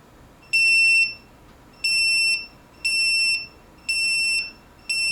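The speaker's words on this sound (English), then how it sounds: "Okay, we've got proper beeping." An Eggtimer ION altimeter chirps right after power-on, five bright electronic beeps of about half a second each, repeating at a steady pace and sounding close and clear over quiet background hiss.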